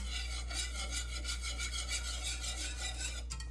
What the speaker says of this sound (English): that's where this whisk comes in really handy to get the lumps out